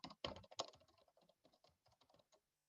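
Fast typing on a computer keyboard during single sign-on setup, a dense run of close, crisp key clicks that starts loud and tapers into lighter, spaced taps before stopping.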